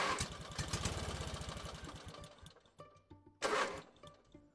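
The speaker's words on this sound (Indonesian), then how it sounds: "Mesin motor Awang mulai tersendat" A motorcycle engine sputters and falters, a rapid chugging putter that weakens and breaks up, then a short burst of revving near the end before it drops off again.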